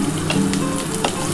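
Spices sizzling loudly in hot oil for a katla fish curry with potatoes, a dense close frying hiss with brief crackles throughout.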